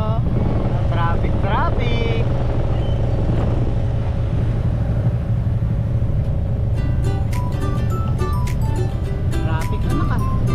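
Steady road traffic around a moving tricycle on a damaged, flooded road, with a constant rumble of engines and passing vehicles, a few horn-like tones and clattering near the end, while people talk over it.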